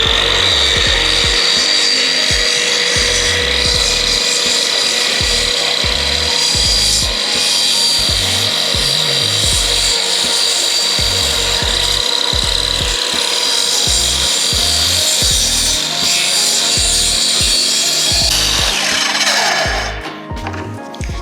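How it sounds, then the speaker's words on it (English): Kreg track saw plunging into and running the length of a melamine splinter guard, a loud steady cutting whine for about twenty seconds that cuts off sharply near the end as the blade spins down. "I'm gonna go ahead and plunge it and drive it all the way through and custom cut that splinter guard"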